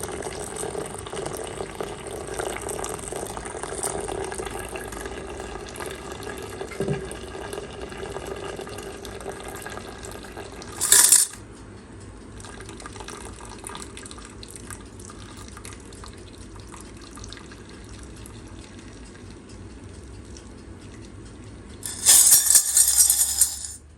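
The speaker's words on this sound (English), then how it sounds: "Pour this water off and see how dirty it is." Dirty water poured off refined gold jewellery, a splashing, trickling pour with drips and clinks, following a quiet stretch and coming in two short bursts near the end.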